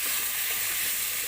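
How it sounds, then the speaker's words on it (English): Minced beef sizzles steadily in a hot pan while being browned for pasta sauce, a close, even hiss with no talking. "to brown our minced beef before we put our pasta sauce."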